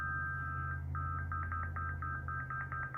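A cymatic therapy machine plays a steady high electronic tone that pulses on and off in short, quickening intervals, faint over a low background hum.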